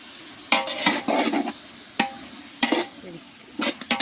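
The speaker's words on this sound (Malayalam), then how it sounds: "ഇളക്കിയെടുക്കാം" A spoon stirs turmeric powder and salt in a cooking pan, giving several short, close scraping strokes in separate bursts with quiet gaps between them.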